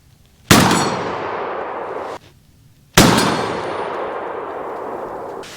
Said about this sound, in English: we're going to go ahead and take 2 more shots on this plate